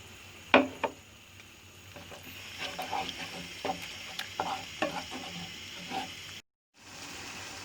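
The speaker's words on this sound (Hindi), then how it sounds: "अब मैं इसमें थोड़ा थोड़ा दही डालकर इसको तेज़ आंच पर भून लूँगी" Minced mutton sizzles and fries in a pan over high heat as yogurt is added, while a spoon scrapes and stirs it in sharp, irregular clatters, then a brief cutoff.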